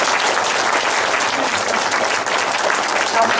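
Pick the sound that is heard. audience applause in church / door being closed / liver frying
audience applause in church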